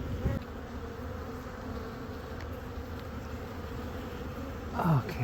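A dense, steady drone of honey bees fills an open hive of about 30,000 bees, continuous and close throughout, with a brief louder rustle near the end.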